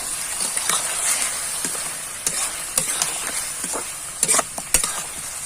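A spoon stirring potatoes in tomato sauce in a hot pan: a soft, steady sizzle under scattered scraping clinks of the utensil against the pan, close by and fairly quiet.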